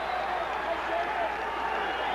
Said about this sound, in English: The crowd reacting to James Toney being back on the ropes.